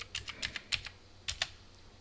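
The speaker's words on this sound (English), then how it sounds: "type our password" A password is typed on a computer keyboard as a quick run of about eight to ten light, close key clicks in two short bursts, with no talk.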